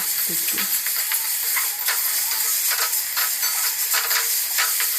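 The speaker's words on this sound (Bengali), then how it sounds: "পেঁয়াজটাকে সুন্দর করে ভেজে নেব খুব বেশি ভাজবো না হালকা সঙ্গে দিয়ে দিচ্ছি একটু রসুন" Onion and garlic frying in a pan with a little turmeric for a Bengali dal egg curry: a steady, bright sizzle and hiss throughout, close and fairly loud, with faint stirring scrapes.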